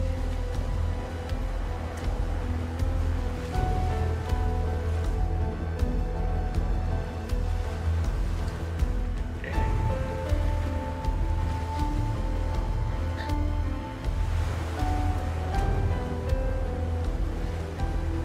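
Steady broadband rush of sea waves washing in, a continuous roaring wash with gentle swells rising and falling, fairly loud and unbroken, no voices.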